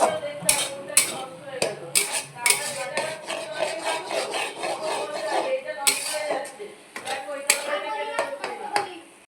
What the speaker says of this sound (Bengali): এবার মিক্স মিক্স মিক্স করবো।